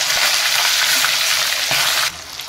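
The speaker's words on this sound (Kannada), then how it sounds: "ಎಣ್ಣೆ ನೋಡಿ ಹೇಗೆ ಸಿಡೀತು" Boiled grains dropped into hot oil fry with a loud, dense crackling sizzle and bursts of spattering, steady and close for about two seconds before abruptly thinning out.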